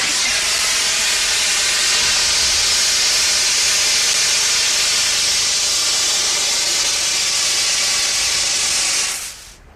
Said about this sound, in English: If I open the valve, it'll shoot out of this pipe and evaporate very rapidly back to a gas